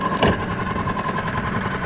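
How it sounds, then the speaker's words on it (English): A boat engine running while stern-to mooring with the anchor down in a bay at Bozburun, Turkey, a steady mid-pitched chug with a short louder burst near the start, close and continuous. "So above the engine noise"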